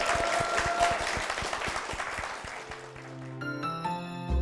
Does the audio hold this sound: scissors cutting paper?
no